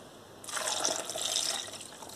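A glass of orange juice poured over papaya pieces in a blender: a steady, close liquid splash and gurgle starts abruptly and runs for under two seconds before easing off, with no talking.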